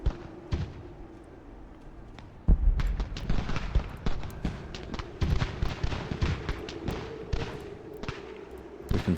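Musket volleys and cannon fire in the Ultimate General: Revolution video game at Fort Ticonderoga, a dense run of sharp cracks and booms that thickens after a heavy blast and continues under a low hum.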